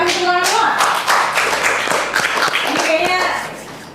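A small group in a podcast studio claps, sharp, close, individual hand claps in a quick run, with people talking and laughing over the clapping.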